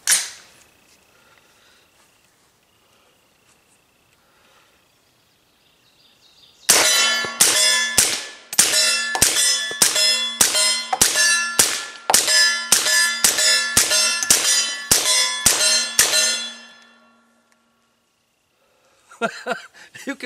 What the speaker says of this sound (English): You can certainly hear that steel getting pounded downrange.